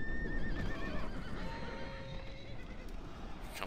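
Several horses neigh and whinny in a Rome: Total War battle, close and loud over a steady rumble of hoofbeats and clip-clop that continues for the whole stretch.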